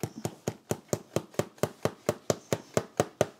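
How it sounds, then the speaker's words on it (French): A small hammer taps a tack into the leather sole of a handmade boot in a traditional bootmaker's workshop in Saumur, giving about fifteen sharp, evenly spaced knocks, close and steady, with no talk. "C'est un petit marteau. Allez, tu tapes."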